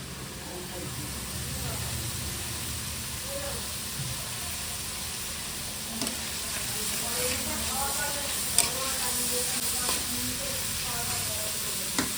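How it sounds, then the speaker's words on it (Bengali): Chowmein with egg, pepper and soy sauce sizzles in a hot pan in a Kolkata kitchen, a steady close hiss of frying punctuated by occasional utensil clinks, with voices talking in the background. "এবার এতে যাবে সয়া সস, দিয়ে দাও।"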